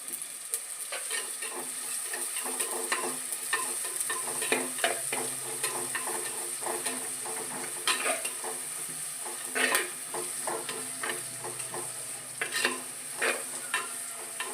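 Small shallots fry in hot oil in a pan, a continuous bright sizzle with frequent scraping clicks of a spoon stirring them, close and steady throughout with no talk.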